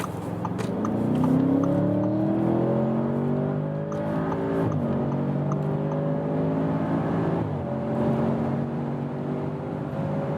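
Audi S8 in dynamic mode accelerating hard from 60 km/h: a loud engine note climbs steadily in pitch, with two brief dips as the gearbox shifts up, heard from inside the car.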